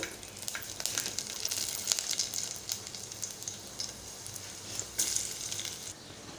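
Garlic and curry leaves sizzle in hot oil, a steady crackling hiss with brief spitting bursts, close and alone without talk.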